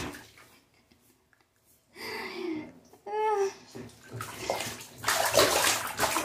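A toddler splashes water in a bath during a hair-washing routine, with sloshing bursts that build toward a loud, sustained splash near the end, and a voice and a child's babble break in between the splashes.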